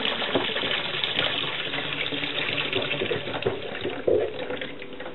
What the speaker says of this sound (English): we have to heat the glass up and fill it with hot water